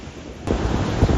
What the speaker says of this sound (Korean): 파도가 굉장합니다